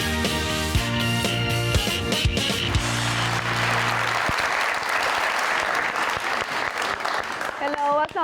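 Studio audience applause greets a guest arriving on a Pakistani TV talk show, starting as a burst of clapping over music and settling into sustained, dense clapping throughout.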